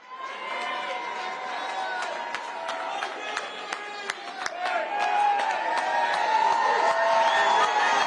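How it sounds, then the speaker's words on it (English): Crowd at an election night watch party applauding and cheering, steady clapping with whoops and shouts, a voice over the top, swelling louder toward the end. "A nice round of applause for Mike Hellstrom from the Laborers Union and Eddie Donnelly, President of the FMDA."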